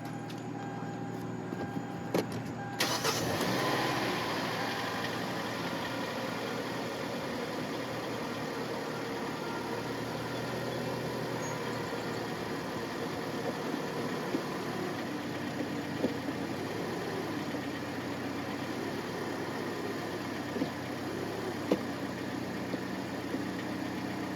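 A Hyundai car engine, on a car that won't shift out of park, turns over and catches after a few seconds, then settles into a steady, low idle that runs on with faint mechanical clicks.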